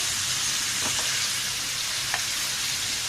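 Whole spices frying in hot oil for Kahray Masalay Ka Gosht, a loud, dense, continuous sizzle with a few faint clinks and scrapes of stirring, close and steady, without any voices.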